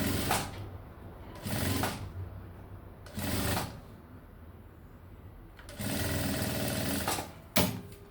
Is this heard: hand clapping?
no